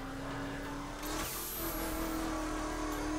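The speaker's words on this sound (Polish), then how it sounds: "bardzo fajnie brzmi to auto" Cadillac Escalade engine revving in The Crew racing game, a steady throaty drone that lifts in pitch partway through and holds loud and close, with no voices over it.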